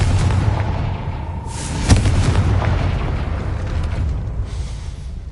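A Confringo fire spell blasting at a gate in the Hogwarts Legacy video game: one sharp, loud explosive burst about two seconds in, over a constant rumbling game backdrop.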